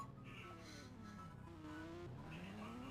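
A Kawasaki ZX-10R in an Indian bike video game speeds up, its engine whine climbing and dipping in pitch in a continuous, moderately loud rev with a faint tire-like squeal.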